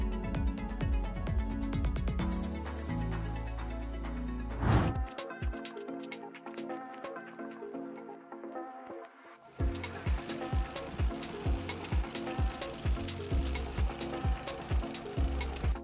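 A wood splitter machine with an adjustable splitting stroke works through logs, giving loud cracking, creaking and splintering bursts in an uneven rhythm. A brief quiet gap comes in the middle before the splitting resumes.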